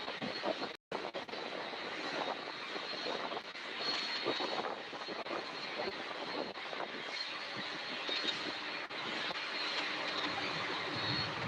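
Broadband roar of a McDonnell Douglas MD-11 jet at Louisville airport, a steady loud engine rush that holds for the whole stretch with one brief dropout near the start.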